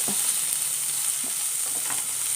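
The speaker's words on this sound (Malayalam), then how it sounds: "ഒന്ന് വഴറ്റിയെടുക്കാം നിറമൊക്കെ ഒന്ന് മാറി വരണം" Chopped ingredients sautéing in a pan for a coconut-milk sardine roast, giving a steady, fairly loud hiss of frying with a few soft stirring taps.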